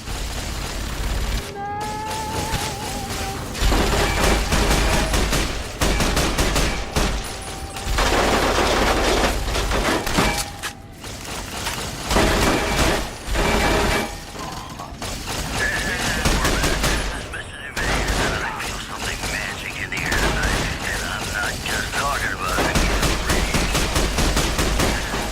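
Sustained automated turret gunfire in Fallout: New Vegas, loud, dense, rapid bursts filling the whole stretch with little pause, booming impacts mixed in and faint voices underneath.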